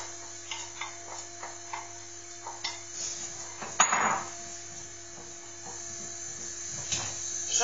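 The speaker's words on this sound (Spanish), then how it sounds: "Y echamos a pochar la cebolla." Onion softens in oil in a pan as pork kidneys are being prepared, giving a faint steady sizzle broken by scattered small clicks and scrapes of a spoon stirring.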